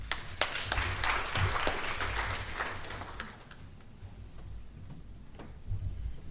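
An audience at a research skills workshop applauds to welcome a speaker, a burst of close clapping that swells and thins out after about three seconds, with a few scattered claps trailing off near the end.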